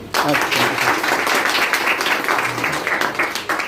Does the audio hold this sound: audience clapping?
yes